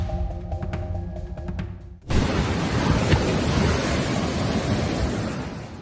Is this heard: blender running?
no